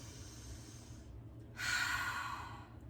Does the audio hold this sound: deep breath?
yes